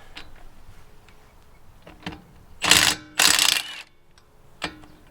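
Car wheel lug nuts being tightened with a wrench: faint scattered clicks, then two loud bursts of ratcheting in quick succession and a smaller click later, close by with quiet background.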